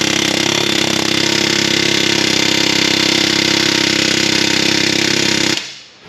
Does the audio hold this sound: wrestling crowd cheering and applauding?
no